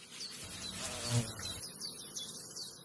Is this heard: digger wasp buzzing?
yes